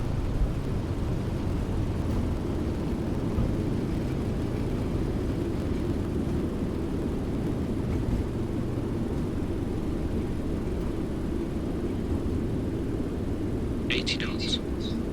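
Ryanair airliner engines roaring in reverse thrust during landing rollout at Dublin in storm crosswinds, a steady loud broadband rumble filling the whole clip with brief higher hisses near the end.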